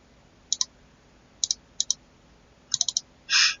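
Computer mouse button clicks while working in QGIS software: a few sharp, close clicks arriving mostly in quick pairs with short pauses between, ending in a brief, slightly longer scrape-like burst, in an otherwise quiet room.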